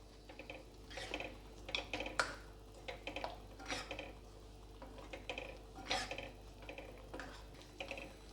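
Quiet scraping and clinking of a spoon stirring kootu, a Brahmin-style lentil and vegetable stew, in a metal pot, irregular taps and scrapes repeating over several seconds at close range.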